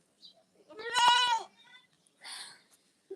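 A goat bleats loudly and close by in a single long, wavering call, followed by a softer shorter cry and a few faint clicks.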